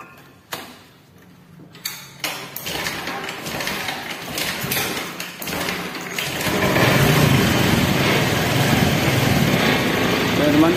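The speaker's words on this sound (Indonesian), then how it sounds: "Dan motor kita hidupkan dulu ya teman." Honda Vario 125 scooter engine starting after a fuse short-circuit repair, a few sharp clicks and starter noise giving way to a steady, louder idle hum that builds over the second half, with faint talk at the start.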